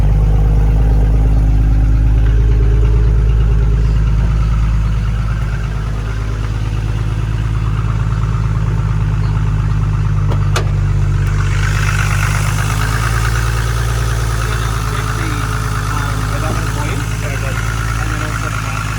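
A Nissan Skyline R34 GT-R V-spec with a 2.8L 800ps engine idles loudly nearby, a deep steady rumble that stays constant, with faint voices in the background.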